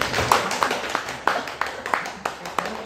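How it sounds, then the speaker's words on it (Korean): Audience clapping at a director's film screening Q&A, a thin scattering of separate claps, about eight in three seconds, in a hall where people talk. "박수 한번 쳐주시면"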